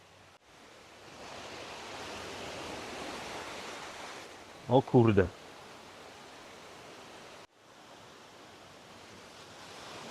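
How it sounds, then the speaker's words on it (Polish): A fast-flowing river roars steadily beneath a swaying red suspension bridge in Panama, a broad, close wash of rushing water with a brief spoken exclamation partway through. "Rzeka rwąca, ale nie jakiś tak, żeby porwało."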